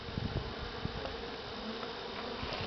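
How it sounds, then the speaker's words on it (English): Dense buzzing of many bees fills the clip, a continuous close drone with small flickers as individual insects pass near. "Seems to be about the same amount of bees around."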